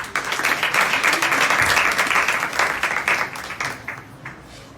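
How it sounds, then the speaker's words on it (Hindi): Church congregation applauding during a Sunday sermon at a gospel revival church, a dense steady wash of many hands clapping that holds strong for several seconds, then thins and fades toward the end. "उसके लिए तालियां बजाएं।"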